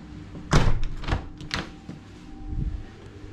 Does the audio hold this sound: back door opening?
yes